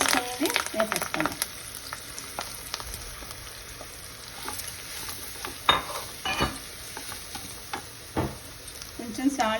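Ground chana dal paste sizzles and fries in a pan for sanagala patolli, with repeated scraping stir strokes and occasional clinks of a spatula against the metal, close and fairly quiet throughout.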